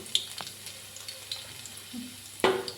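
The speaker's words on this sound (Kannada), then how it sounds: "ಎಣ್ಣೆ ಬಿಸಿ ಆದಮೇಲೆ ಸಣ್ಣದಾಗಿ ಹೆಚ್ಕೊಂಡಿರುವಂಥ ಬೆಳ್ಳುಳ್ಳಿನ ಹಾಕ್ಕೊಳ್ಳೋಣ." Finely chopped garlic fries in hot oil in a pan over low flame, a soft continuous sizzle with faint stirring scrapes and a louder clatter near the end.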